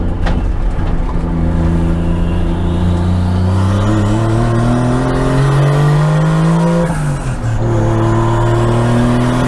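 A 1JZ-engined Chevy Nova revs hard and loud, its pitch climbing steadily, dipping briefly and rising again, with a whistling turbo rising over the engine roar throughout.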